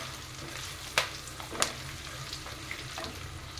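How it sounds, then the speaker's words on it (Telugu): Turmeric and asafoetida tempering spices fry in hot oil with a steady, close sizzle, broken by a few sharp clinks from stirring; no one speaks. "1/2 టీ స్పూన్ ఇంగు వేసుకోవాలి. ఇవి మంచిగా ఫ్రై చేసుకోవాలండి."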